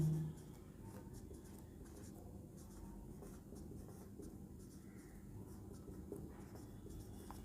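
Writing on a board during a lesson on ionisation energy, a faint, continuous scratchy stroking over a low room hum, soft and close without speech.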